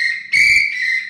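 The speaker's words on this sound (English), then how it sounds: "once you blow on the whistle" A referee blows a whistle in one loud, piercing blast that swells in the middle with a rattling trill and then tapers slightly, close and without any talking.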